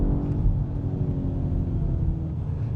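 A BMW M5 engine builds under open throttle on a race track, a steady low rumble and whir held at moderate level without any talk.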